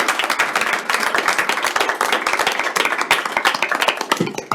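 Council members applauding at an ordinary council meeting after a motion carries, a lively close round of individual hand claps from a modest group, steady for several seconds before tailing off.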